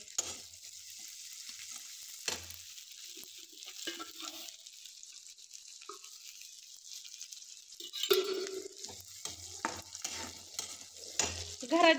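Chopped onion sizzles in hot oil in a pan while a spoon stirs it, soft steady frying hiss with scraping clinks and louder stirring bursts near the end.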